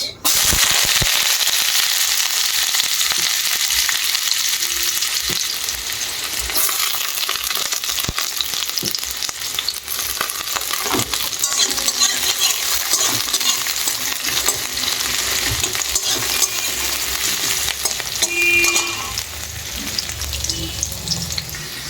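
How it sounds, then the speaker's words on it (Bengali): Onions sizzle steadily in hot oil in a pan for about twenty seconds, with a loud, dense crackle and occasional clinks from stirring. No one speaks. "তো পেঁয়াজ ভাজা হয়ে গেছে"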